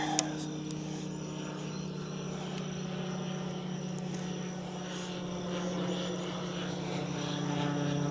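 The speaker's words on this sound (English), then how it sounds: "Got a little plane going overhead here." A small propeller plane drones steadily overhead, a low continuous engine hum that stays fairly constant throughout, with a few faint clicks nearby.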